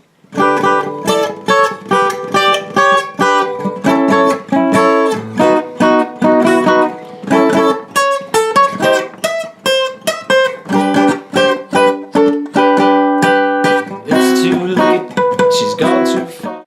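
Guitar playing the fourth variation of a song on the final verse, a steady run of bright plucked chords and single notes, loud and close, continuous without pauses or talk.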